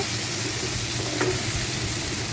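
Steady frying sizzle from a pan of Assamese sour rohu fish curry being stirred, a constant close hiss with a faint scrape partway through.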